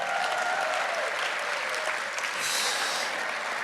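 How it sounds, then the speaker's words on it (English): Audience applause fills a conference hall for the MC at a Pacific child well-being conference, a steady broad wash of clapping throughout, swelling slightly near the end. "Please give a great big round of applause for the effervescent, energetic MC, Ma'a Brian Sangala."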